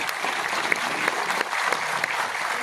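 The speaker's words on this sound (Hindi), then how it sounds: "आप तालियां बजा सकते" Applause from an audience at a business plan presentation in Pune, a dense, steady clapping sustained throughout, close and fairly loud, with no one speaking.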